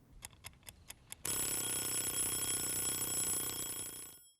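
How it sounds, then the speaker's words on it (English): A nightstand timer alarm in a horror film bursts into a loud, sustained electronic ringing after a few soft, evenly spaced beeps, holding steady for about three seconds before cutting off abruptly. "The timer from earlier suddenly goes off on his nightstand and Jackson wakes up"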